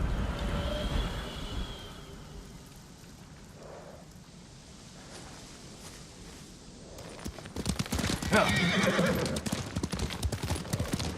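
In Ghost of Tsushima, a horse's hooves clip-clop at a steady pace, growing louder and busier toward the end, with a brief whinny early on and soft rain-like ambience underneath.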